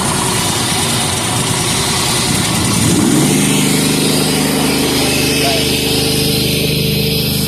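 A pressure washer's small gasoline engine runs loud and close, its rough sputter settling into a steady, even drone about three seconds in.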